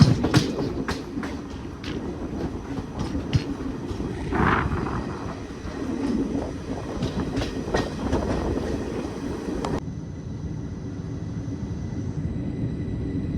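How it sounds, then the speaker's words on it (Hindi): A passenger train in motion, heard from on board as a continuous low rumble with repeated rail clicks and clacks, close and steady, with the higher whine dropping away near the end; no speech. "हमारी ट्रेन को यहाँ पे फिर से धीरे कर दिया गया।"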